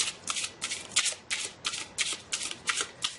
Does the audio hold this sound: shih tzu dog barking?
no